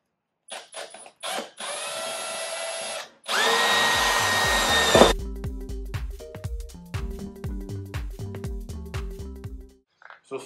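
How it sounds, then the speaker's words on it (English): A power drill bores a pilot hole into the fender of a 2017 Toyota Tacoma for a snorkel install, with several short bursts of high whine and then a longer sustained run, followed by some clicking and handling noise. "I'm just going to drill a little pilot hole in the center here"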